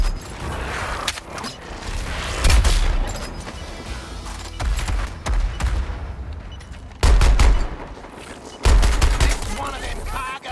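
Repeated loud bursts of gunfire with heavy booms and mechanical clanks in Suicide Squad: Kill the Justice League, several intense volleys separated by short lulls, with voices speaking throughout.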